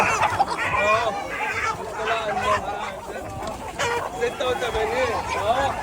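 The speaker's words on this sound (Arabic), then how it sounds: "الفراخ اهو بالصلاة على النبي" Chickens clucking and squawking in a series of repeated calls, close and fairly loud, with a hint of crowing among them and some background voices mixed in.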